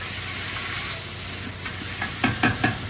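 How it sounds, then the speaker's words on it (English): Poi stew cooking in a pot, stirred with a spatula: a steady sizzle and hiss, then three or four quick scraping strokes near the end, close and fairly loud. "I need to stir it around with a spatula"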